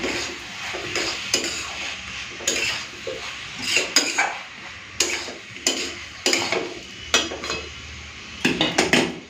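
A spoon scrapes and clinks against a pot while garam masala is stirred into an egg curry, a string of irregular metallic knocks over a low simmer, with no talking.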